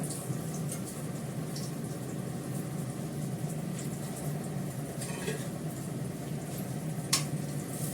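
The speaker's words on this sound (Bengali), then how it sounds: "বেগুন ভাজাটা তুলে নিয়ে ডালটা ফোড়ন দিয়ে নেব।" Sliced brinjal fries in hot oil with a steady, even sizzling hiss that holds at one level throughout. A few faint kitchen clinks break through now and then.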